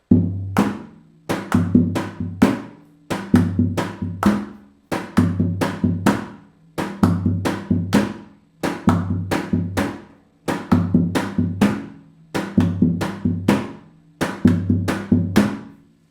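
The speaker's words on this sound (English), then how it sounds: "pode demonstrar esse ritmo na zabumba? Claro. Samba de Latada." A zabumba drum plays a repeating samba de latada groove, deep booming bass strokes mixed with sharp slaps in a steady, lively cycle.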